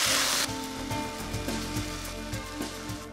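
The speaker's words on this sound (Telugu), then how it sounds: "తర్వాత అల్లం వెల్లుల్లి పేస్ట్. ఇది కొంచెం వేగాలి." Ginger garlic paste fries in a pan with curry leaves, a dense steady sizzle and crackle that follows a louder burst of spitting at the moment it goes in, and no voices are heard.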